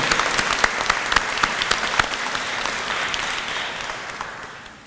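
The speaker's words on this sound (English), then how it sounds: "let's give them a good round of applause." Audience applause at a nursing pinning ceremony, a steady round of many hands clapping close by that gradually thins and fades toward the end.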